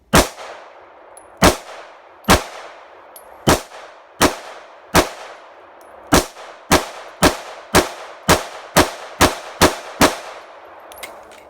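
Gunshots ringing off steel targets in a shooting drill, about fifteen sharp reports, each followed by a bright metallic ring, spaced widely at first and then fired in a fast, even rhythm.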